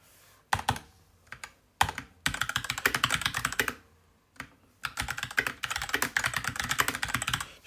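Code being typed on a computer keyboard, close-up bursts of rapid clacking keystrokes separated by short pauses, loud and clear with no talking.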